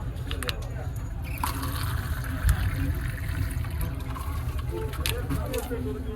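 Drinking water runs steadily at a public water point in Madina, a continuous trickle and splash across the whole stretch with background chatter.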